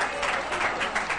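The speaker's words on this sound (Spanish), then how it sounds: "¡Vamos, un aplauso!" An audience gives a brief burst of applause at a Spanish-language interview event, a short dense patter of clapping without pause.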